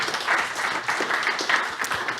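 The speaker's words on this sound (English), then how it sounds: "big round of applause for Berg" A conference audience claps for a program committee member, with a dense, even patter of hands that carries briefly at moderate loudness.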